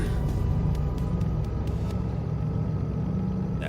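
A steady, low locomotive engine rumble in the train game Derail Valley drones throughout, constant and fairly loud, with a few faint clicks near the start as the throttle is applied.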